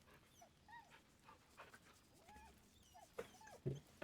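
A dog in a video game pants and gives soft whimpering whines, repeated throughout amid quiet game ambience.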